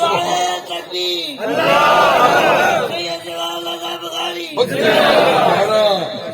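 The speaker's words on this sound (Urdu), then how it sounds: "چھوٹا شہزادہ ملک نعرے لا رہے جی" A crowd at a religious gathering roars slogans in loud bursts that swell and fade, answering a lead voice that calls out between the waves.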